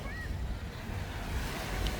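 Sea waves wash steadily on Boracay beach on a clear morning, a continuous close surf rush mixed with light wind noise on the microphone, no voices.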